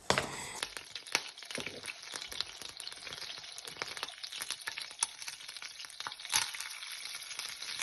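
Sunflower oil drained from a tuna tin heats in a frying pan, giving a steady crackling sizzle studded with sharp pops throughout, close and unbroken, with no voices.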